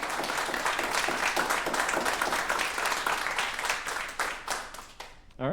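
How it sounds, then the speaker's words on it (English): A crowd applauds in a dense, steady burst of clapping that carries on for several seconds before tapering off at the end. "let's have another round of applause for all of the staff members"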